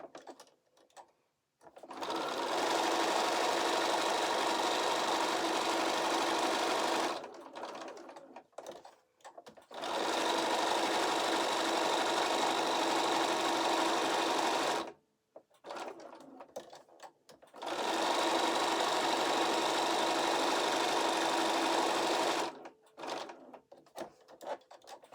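Sewing machine stitching a quarter-inch seam around 5-inch quilt squares in three long, steady bursts of fast, even whirring, each separated by short pauses with light handling of the fabric.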